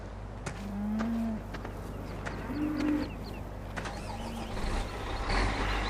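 Cattle mooing in the Farming Simulator 15 video game on PS4, two or three low drawn-out moos over a steady engine-like hum, moderately faint.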